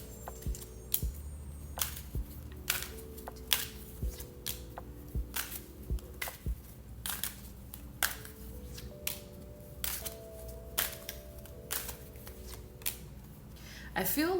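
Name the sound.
shuffling tarot cards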